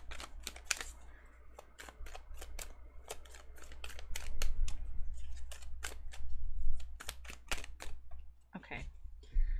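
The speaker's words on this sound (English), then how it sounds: "Clearly, I can't talk and shuffle at the same time." Tarot cards shuffled by hand, giving a quick run of crisp, dry flicks and slaps that cluster and pause irregularly over a low steady hum, fairly close and moderately loud.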